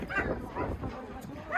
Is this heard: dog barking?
yes